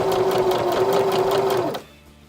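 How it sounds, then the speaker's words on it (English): A sewing machine stitches fabric slowly as old clothes are remade, giving a steady, close mechanical whir that runs evenly and then stops abruptly. "I am gonna sew on this piece since I have it in place"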